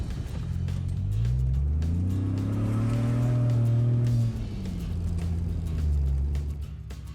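An overland camper vehicle driving an off-road trail between Colorado and Moab, Utah; its engine drones steadily, with pitch swelling and falling as it works over the terrain, heard close and continuous under wind-like noise.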